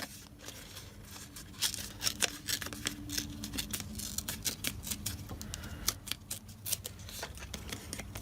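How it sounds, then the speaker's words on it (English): Paper is torn by hand in a string of quick, crisp rips and rustles at close range, with short pauses between pulls, during journal crafting. "Can you tell I love tearing paper?"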